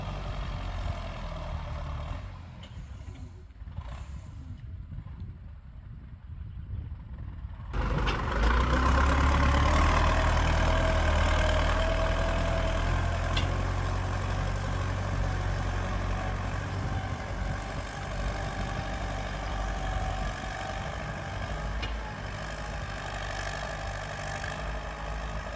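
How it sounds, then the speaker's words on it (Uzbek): A mini tractor engine fitted with a heavy steel plough kicks in after a quiet start and keeps running with a steady low rumbling drone during a test drive. "mini traktorda pulikni test drive qilinyapti"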